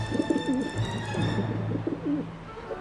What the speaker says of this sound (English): How am I supposed to get rid of that pigeon?